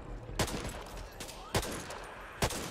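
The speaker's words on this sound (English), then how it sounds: "Watch me shoot him in the leg." Three sharp, loud single gunshots ring out in the Back 4 Blood video game, spaced roughly a second apart over a low background hum.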